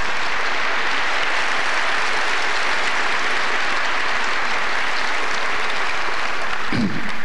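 A debate audience applauds after a speaker's time runs out, a sustained, even wash of clapping filling the room that thins near the end.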